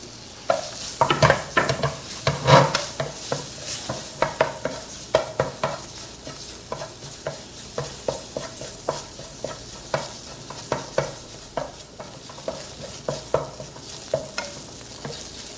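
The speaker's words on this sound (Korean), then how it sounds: "팬에 버터를 녹여서 고기를 먼저 볶아 보도록 하겠습니다." Beef and minced garlic stir-frying in melted butter in a pan for beef stew, a steady sizzle broken by repeated scraping clicks of a utensil stirring, close and fairly loud throughout with no talking.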